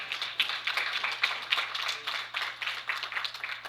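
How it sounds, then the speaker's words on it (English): Dense, steady applause from an audience honouring the winners at an open men's championship medal ceremony. Many hands clap continuously at moderate distance for nearly four seconds, with no voices over it. "round of applause for our winners"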